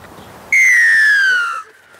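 A rugby league referee's whistle gives one loud, sustained blast of about a second, its pitch sliding slightly downward before cutting off, with quiet background before and after.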